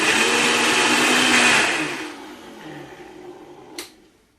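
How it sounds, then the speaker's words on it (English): A Vitamix blender whirs at low speed while mixing dough ingredients, a loud steady grind that cuts off and winds down, followed by a short sharp clack near the end. "I usually use earplugs when I use my Vitamix, but this was on a low enough speed that it wasn't that loud"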